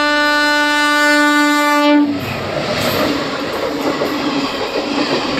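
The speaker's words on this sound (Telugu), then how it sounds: "బ్యూటిఫుల్ వ్యాగ్నైన్ లోకమోటివ్ వెళ్తుంది కదండి." A WAG-9 electric locomotive hauling a train sounds a long, loud, steady horn, then rumbles past close by with rushing wheel and carriage noise and faint rail clatter.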